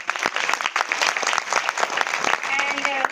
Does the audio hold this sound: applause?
yes